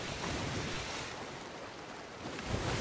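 Ocean waves in Sea of Thieves roll in a dense, continuous wash of surf and wind, loud and close, swelling slightly toward the end with no voices.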